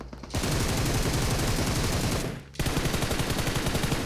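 Gunfire in the mobile battle royale game PUBG Mobile, long loud bursts of rapid automatic fire, briefly pausing near the middle and then resuming, dense and close.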